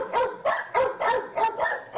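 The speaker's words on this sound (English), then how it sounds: "she seems to be a super, super friendly, nice dog" A dog at an animal shelter barks repeatedly in a steady rhythm, about seven loud close barks in quick succession with no talk over them.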